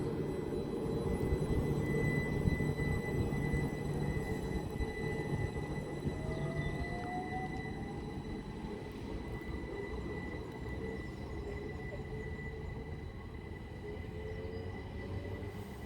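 A Great Western Railway passenger service to Didcot Parkway pulls gently away from Goring & Streatley station on the Great Western Main Line, a steady, loud rumble of wheels and engine that holds for the full length and eases off slightly toward the end, with no talk.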